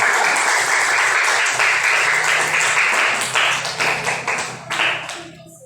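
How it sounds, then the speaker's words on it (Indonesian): Classroom audience applauding a student discussion group, a loud, dense burst of clapping that holds steady and then thins into a few scattered final claps before fading out. "Beri tepuk tangan untuk kelompok 4"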